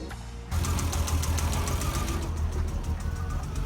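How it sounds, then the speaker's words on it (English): A Triumph GT6 engine with a dropped valve fires up after a short cranking moment and settles into a loud, steady, slightly uneven running chug close by. "So I'm gonna start it and see if it runs."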